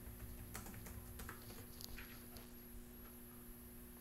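Rapid, uneven keystrokes on a computer keyboard while someone writes Python code, close up and fairly quiet, with a steady electronic hum underneath and no talking.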